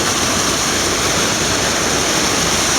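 The Weiser River rushes through a diversion dam, a loud, continuous roar of churning water that stays steady throughout with no voices.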